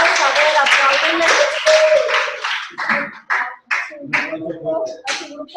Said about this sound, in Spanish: Un aplauso ahí al compañero de Nogales. A ver, apláudenle.